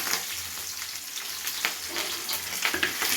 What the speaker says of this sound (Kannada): ಇನ್ನು ಚೆನ್ನಾಗಿ ಕೆಂಪಾಗೋವರೆಗೂ ಫ್ರೈ ಮಾಡ್ಕೊತಾ ಇದ್ದೀನಿ